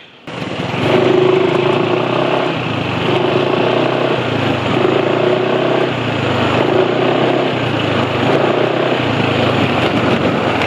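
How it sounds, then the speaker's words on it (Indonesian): A steady motorcycle engine drone runs throughout at close range, with a low rumble and slight periodic swells in pitch, alone without voices. "kalau dari sisi suara mesin sebenarnya nggak terlalu kasar ya"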